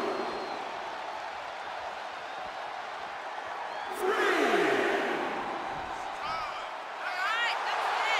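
Arena crowd in the WWE 2K23 wrestling game cheering and roaring for Lita, a steady wash of crowd noise that swells louder around the middle, with commentary voices talking over it.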